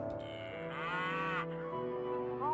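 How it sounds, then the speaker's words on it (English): A cow mooing in the PC DOS video game Blue Ice, a single drawn-out synthesized low moo that bends in pitch, heard alone over a faint game hum. "Why this cow only produces a single drop of milk, I don't know."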